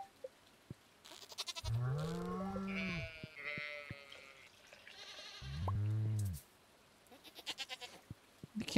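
A sheep in the Stardew Valley video game gives two drawn-out, wavering bleats, clear and close, separated by soft clicks and small interface sounds.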